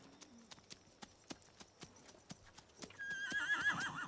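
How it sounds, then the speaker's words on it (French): A horse's hooves clip-clop in a steady, evenly spaced rhythm, then a loud, close whinny rises over them near the end, with no talking. "Tu l'entends hennir?"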